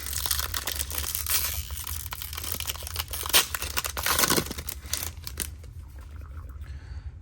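A Topps Chrome Mega Box trading card pack is ripped open up close, with crinkly foil tearing and crumpling in bursts that fade to quiet near the end.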